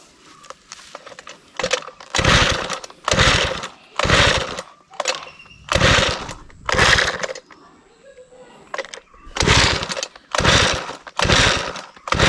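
Petrol machine being pull-started on a cashew farm after days unused, a series of short loud sputtering bursts in a rough irregular rhythm, separated by brief quiet gaps.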